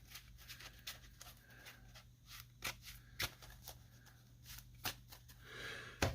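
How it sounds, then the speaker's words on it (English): A deck of trading cards being shuffled by hand, soft quick riffling strokes in irregular bursts, close and quiet. "I'll just shuffle real quick."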